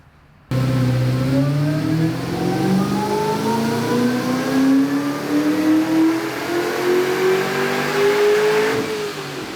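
A supercharged C6 Corvette V8 on a dyno, fitted with an Edelbrock E-Force supercharger, revs loudly and steadily upward for about nine seconds, its pitch and supercharger whine climbing before it backs off at the end, with no voices.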